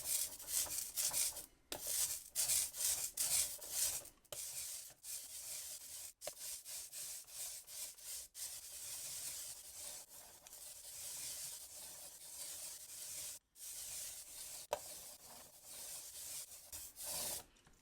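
A paint roller rolls back and forth in repeated sticky, rasping strokes, close and continuous with brief pauses between passes.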